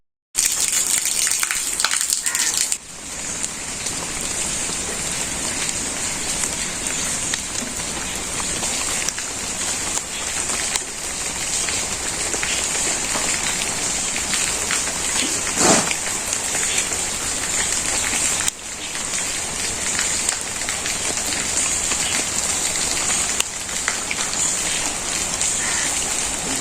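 Heavy rain pours down steadily, a dense close hiss of drops on surfaces that holds for the whole stretch with small shifts in intensity and no voices.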